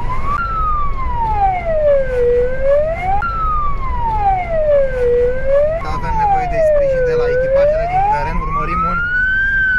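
A police car siren wails loudly during a chase through city streets in Brașov, rising and falling in slow, even sweeps over road noise, with a faint voice underneath.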